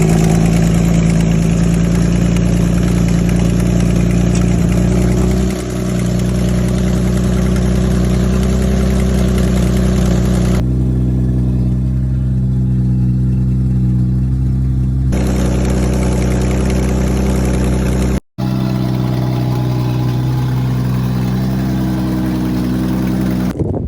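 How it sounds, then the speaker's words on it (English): A turbocharged Lexus IS300 engine runs steadily after its first crank, a loud close rumbling idle with a brief lull and a short cut near the end. "that's when the car cranked for the first time"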